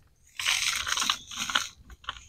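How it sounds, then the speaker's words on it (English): Dry biochar from a 55-gallon drum is crushed by hand, giving a close, crackly crunching that comes in dense bursts with short pauses between them. "grab this with my hands, and just keep crunching it up."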